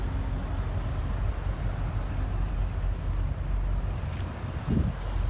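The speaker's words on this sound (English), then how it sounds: "So here is Clear Creek in front of our cabins here." Clear Creek in Colorado runs at a low level past a row of cabins, making a steady, close rushing wash of water with some wind buffeting the microphone and no voices.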